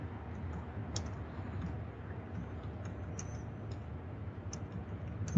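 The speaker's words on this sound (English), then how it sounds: "I can hear you typing." Faint, quiet typing on a computer keyboard, with scattered soft key clicks over a low background hum.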